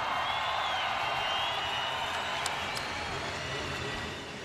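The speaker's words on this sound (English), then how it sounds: "One more round of applause, you guys" A crowd applauds and cheers steadily at a Harley-Davidson event, a dense wash of clapping that fades slightly toward the end.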